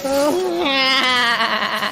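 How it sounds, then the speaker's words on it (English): A goat bleats in a loud, wavering cry that rises and breaks into a rapid tremolo, filling the whole stretch with no pause, heard alone and close. "Was that a goat noise?"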